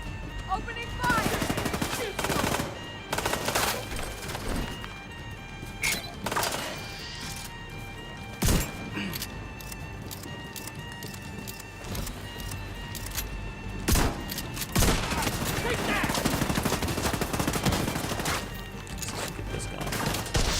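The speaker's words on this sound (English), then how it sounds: "Opening fire!" Gunfire in The Division 2 erupts in repeated bursts of automatic shots and sharp single cracks, loud and close, with explosive impacts scattered through a sustained firefight and a voice speaking at times beneath it.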